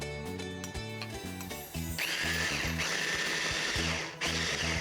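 Food processor grinding a chickpea fritter mixture with onion, mint, tomato, salt, pepper and cumin, a close, steady motor drone with rhythmic pulsing that grows harsher and louder after about two seconds.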